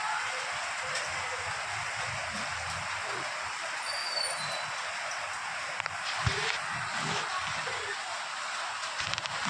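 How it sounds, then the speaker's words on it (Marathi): Steady unseasonal rain in Nashik patters down in a continuous soft hiss, with an occasional louder drip or tap close by. "तुम्हालाही आवाज येत असेल गाईज, बिन मौसम बरसात आहे बघा"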